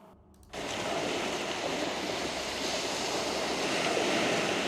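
Water rushes beside a bridge in a game sound effect, a broad steady wash like flowing water or surf that starts abruptly after a brief quiet moment and holds loud and even throughout.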